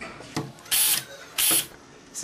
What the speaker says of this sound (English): Use the same drill and tap as before.